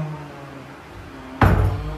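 A newly installed bedroom door in a house under renovation opens with a single sudden knock and clatter after a quiet room tone, followed by a brief rattle.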